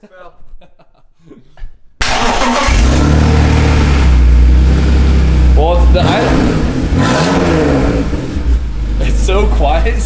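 An E36 BMW with a newly installed supercharger kit starts and revs loudly close by, its engine note rising and falling in several sustained pulls, with people talking and chuckling before and over it.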